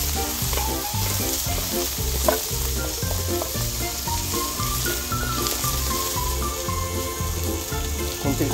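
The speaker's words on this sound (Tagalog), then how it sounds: "Tapos, sibuyas, caramelize natin." Onions caramelizing in oil in a frying pan for a Filipino adobo of hasa-hasa fish, a steady close sizzle with stirring scrapes throughout, no talk.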